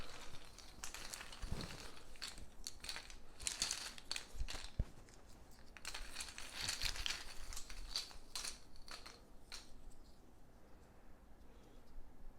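Plastic game pieces and cardboard tokens being rummaged through inside the monster bag of the Eldritch Horror board game, a steady close crinkling and rustling with a few sharper clicks, no talking.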